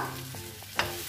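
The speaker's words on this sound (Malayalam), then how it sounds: "നന്നായി ഇളക്കി" Potatoes being stirred through a sizzling masala curry in a pan, with a steady frying hiss and a couple of soft scrapes and clinks of the spoon.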